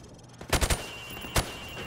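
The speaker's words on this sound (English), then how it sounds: "I want you to shoot the targets through the wood." Gunshots fired through thin plywood at targets in Call of Duty: Modern Warfare Remastered, three sharp loud reports in quick succession, then a pause and one more shot, close and punchy.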